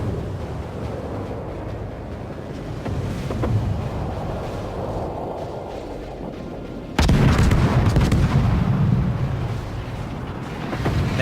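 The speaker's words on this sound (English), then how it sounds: "Benson's got pretty neat gun sounds" Naval deck guns of the destroyer USS Benson firing in World of Warships, heavy booming rumbles that roll on continuously, with a louder, closer blast kicking in near the end.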